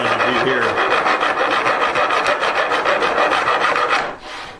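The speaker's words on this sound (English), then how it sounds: "I'm going to have a bit more filing to do here" A double cut file rasps steadily across the wood of an electric guitar body, a loud, close, continuous rhythmic scraping of quick back-and-forth strokes that stops just before the end.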